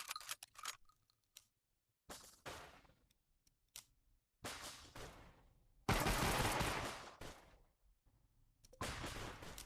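Pistol shots from Empire of Sin, a 1920s gangster strategy game, come in separate bursts broken by silent gaps, each a sharp crack with a short tail, some bursts louder and longer than others.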